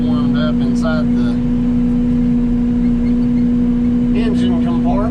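An excavator engine idles while warming up, a steady droning hum with a strong constant tone, as a person talks over it intermittently near the start and end.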